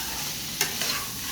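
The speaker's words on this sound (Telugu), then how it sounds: "ఒక్క నిమిషం ఇలాగా కలుపుతా." Drumstick mustard curry stirred in a pan, a soft steady sizzle with a sharp scrape of the spoon near the middle and another lighter one shortly after, no voices.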